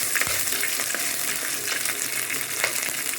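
Green chilies sizzle in hot oil for fenugreek-leaf saaru, a steady crackling fry with light scraping stirs of a spoon in the pan, close and continuous, no talk.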